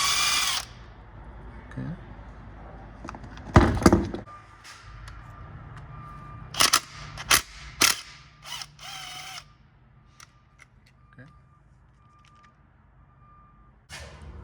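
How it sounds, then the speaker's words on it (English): A ratchet loosens the transmission pan bolts on a Mercedes-Benz C320, giving a few short bursts of clicking at close range among scattered metallic tool handling, with a brief spoken word near the start. "So now we're gonna remove the bolts."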